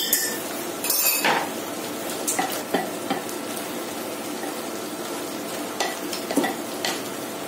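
Onion and tomato frying in a pot for kabsa, with a steady low sizzle beneath repeated clinks and scrapes of a utensil stirring against the pot, close and fairly quiet.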